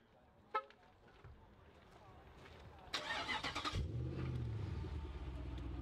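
An SUV's 6.1-litre engine cranks, catches and settles into a deep, steady rumble, close by, following a brief horn-like toot and people talking quietly beforehand.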